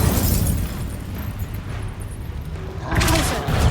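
Confringo fire spell explosion from the Hogwarts Legacy video game, a loud blast with a rumbling tail followed by a second burst, with a voice shouting over it.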